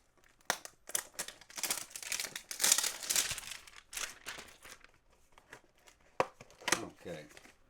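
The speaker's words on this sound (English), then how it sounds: "I just like opening sports cards." Foil sports card packs ripped open up close, with loud crinkling and tearing in a sustained burst, then scattered softer rustles and snaps.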